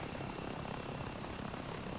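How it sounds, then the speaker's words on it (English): VTOL aircraft engines with ducted fans in the wings and rear jet nozzles spool up in the ArmA 3 video game, a faint, steady whirring drone that holds evenly throughout. "As we start the engines here, they use ducted fans in the wings and jet"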